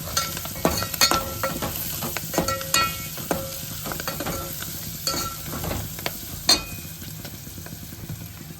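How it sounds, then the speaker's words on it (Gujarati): Green chillies frying in oil with fenugreek leaves, an up-close crackling sizzle broken by sharp stirring clatters and scrapes, no talking. "લીલા મરચા તળવાના છે. તળવાના અંદર મેથી નાખવાની છે."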